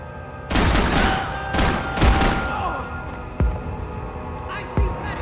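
Gunfire from the video game Max Payne 3 erupts in a few loud bursts and sharp single shots that fade between hits, with a distant crack near the end and a bed of game ambience underneath.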